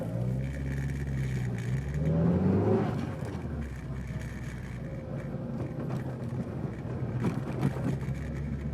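A Mitsubishi Lancer Evolution GSR engine revs up and settles at close range, with the recirculating blow-off valve venting between revs over steady background rumble and wind.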